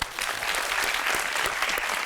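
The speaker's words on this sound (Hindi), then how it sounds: "इनके कॉन्फिडेंस के लिए तालियां" Studio audience clapping on a television talk show, a dense, steady burst of applause filling the room without a break for the whole stretch.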